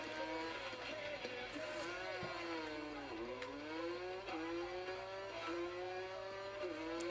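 A small 50cc motorbike engine in MX vs ATV whines and buzzes steadily, its pitch dipping and climbing as it revs, with a faint tinny, game-like quality.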